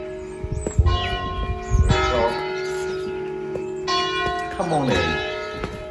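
Christmastime church bells near a French château ring in sustained, overlapping tolls with long ringing decay, and a voice speaks briefly over them.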